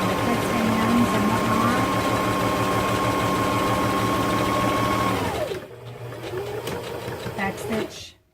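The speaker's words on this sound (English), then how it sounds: "sewing, right? Back stitch." A sewing machine set to zigzag back stitches through a paper towel, a steady close mechanical whir with a rhythmic buzz that stops near the end, leaving faint handling noises, and no clear speech over it.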